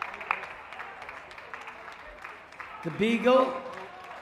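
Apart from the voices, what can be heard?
audience cheering and applauding at dog show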